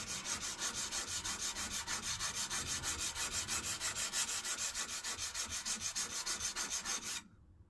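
A plane iron is sharpened freehand on a sharpening stone, the steel scraping in quick, even back-and-forth strokes, close and steady, before stopping abruptly near the end.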